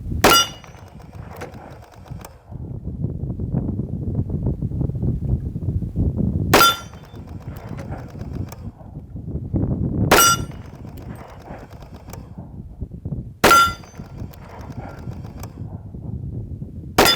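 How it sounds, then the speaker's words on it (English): A Smith & Wesson M&P pistol in .40 S&W fires at steel targets outdoors. Five sharp, well-spaced shots each ring with a metallic clang, separated by stretches of low background rumble. "Let's put some rounds on the steel."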